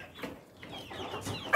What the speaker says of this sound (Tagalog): Update naman sa ating mga sisiyo